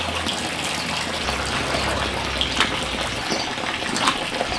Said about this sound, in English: So now I'm going to start filling it up with this hose